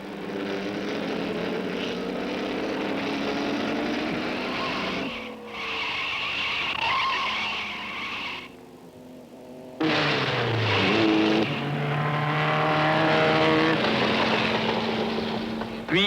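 Vintage Sunbeam and Fiat race cars roar round a racing circuit, loud engines rising and falling as they pass, with a brief quieter gap before a louder burst of revving close by.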